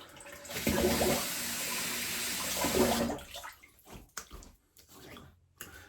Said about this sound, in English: Slap a bit of cold water on